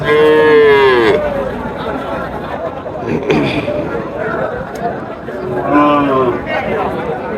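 Crossbred cows with calves bellow at a rural cattle market in Sonaichandi haat, Chapai Nawabganj, Bangladesh. Two long, loud, close moos are heard several seconds apart over steady crowd chatter and people talking.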